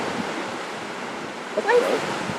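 A waterfall in the Keswick area, heard as a steady, broad rush of falling water with wind, and a brief voice near the end.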